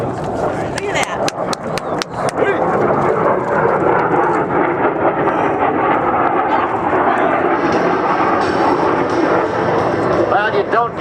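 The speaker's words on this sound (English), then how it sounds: "The B-2 Spirit bomber, flown by Major Mike Williams and Major Ben" A B-2 Spirit stealth bomber passes overhead, a loud, broad jet roar that swells and holds steadily for several seconds, with voices faintly beneath it.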